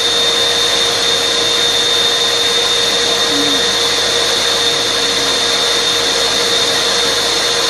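A record cleaning machine's vacuum arm runs with a steady, loud, unbroken suction drone and a constant high whine, holding at one level from start to finish.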